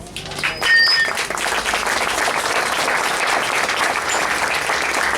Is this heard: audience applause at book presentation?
yes